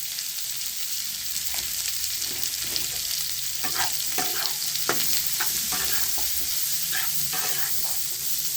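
Ground turmeric and coriander powder fry in a hot oiled pan, giving a steady, loud sizzle throughout with repeated scraping and stirring strokes layered on top; no voices.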